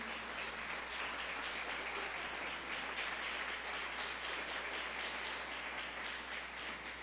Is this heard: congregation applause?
yes